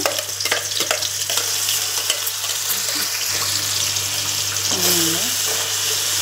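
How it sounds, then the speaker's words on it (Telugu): Onion paste with curry leaves frying in oil gives a loud, continuous close sizzle, with a few stirring scrapes near the start and a faint watery hiss mixed in; no one speaks. "ఇప్పుడు ఉల్లిపాయ పేస్ట్ ఉంది కదండి, అది వేసేస్తున్నాను."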